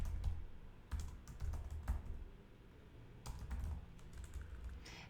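Typing on a computer keyboard while writing a website meta description: irregular bursts of close, clicky keystrokes with brief pauses between flurries, no voices.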